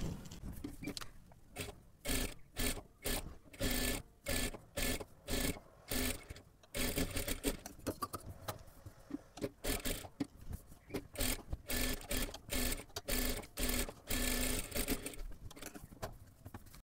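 A sewing machine runs in repeated bursts of fast stitching along the edges of a blouse fabric strip, with short pauses between runs, close and clear, with no talk.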